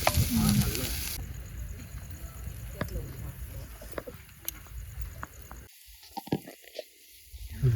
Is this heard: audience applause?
no